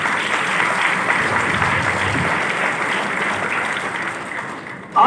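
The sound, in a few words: audience applause at business seminar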